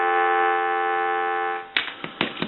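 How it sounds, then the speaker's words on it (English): A steady electronic dial tone from an animated Goofy novelty telephone with caller ID hums for about a second and a half, then cuts off into a few short clicks and bursts. "Give you some dial tone."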